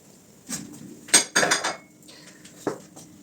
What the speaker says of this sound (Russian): 3 яйца выливаем в мисочку.